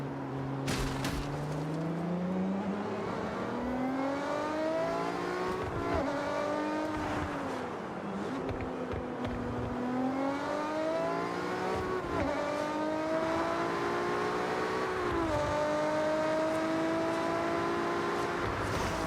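Car with an upgraded exhaust in Forza Horizon 6, engine revving loudly through repeated rising and falling sweeps and gear changes, alone without talk.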